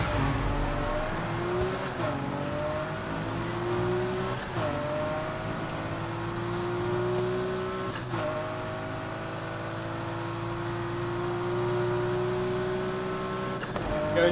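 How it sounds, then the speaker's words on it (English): Race car engine revving in the video game Need for Speed Heat, a loud sustained drone whose pitch climbs repeatedly through gear changes, with brief drops between shifts and tire noise underneath, no talk. "Just try and rev the engine"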